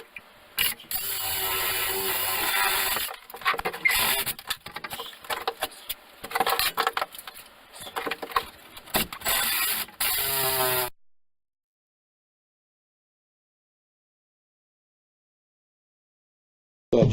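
Saw blade tearing through a lath and plaster structural wall while framing a door opening, a loud rough grinding run of about eleven seconds with brief pauses, then silence until a short burst at the very end.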